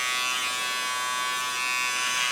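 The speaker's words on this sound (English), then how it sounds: "going to my small clipper and a fine comb" A small electric hair clipper hums steadily and close up during a trim with a fine comb, a continuous bright buzz with no talk over it.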